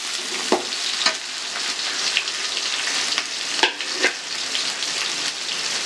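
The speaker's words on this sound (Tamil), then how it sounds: "சின்ன வெங்காயம் கட் பண்ணி வச்சுருக்கேன், போட்டுக்கோங்க. நல்ல வெங்காயம் வதங்கட்டும்பா." Chopped small onions fry and sauté in hot oil in a pan, a continuous close sizzle broken by a few sharp clinks and scrapes as they are stirred, with no one speaking.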